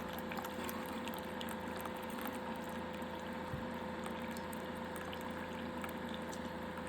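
Thin, steady trickle of coffee running from a manual brewer in four streams, a soft continuous pouring sound with a faint hum beneath and no talking.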